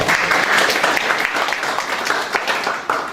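An audience claps to welcome the municipal head of Zielona Góra commune at a local forum, dense steady applause close by that thins slightly toward the end.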